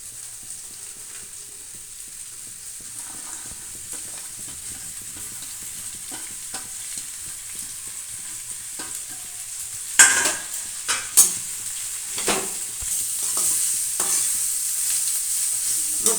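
Chopped cabbage frying in hot oil, a soft sizzle building steadily, then louder clattering stirs and a brighter crackle from about ten seconds on, close by with no talk.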